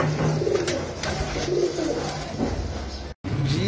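A breeder pair of Rampuri pigeons gives soft, throaty coos that repeat close by, with a steady background hum and a brief dropout near the end.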